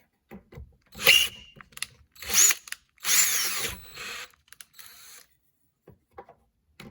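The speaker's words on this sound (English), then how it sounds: "We're going to drill this out real quick." A power drill drilling out a metal part whirs in several short bursts separated by pauses, close and fairly loud, with faint clicks between runs.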